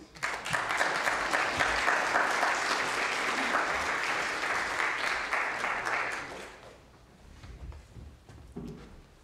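Congregation in a church service gives a full round of applause, dense and sustained for about six seconds before fading into scattered claps and quiet room sounds.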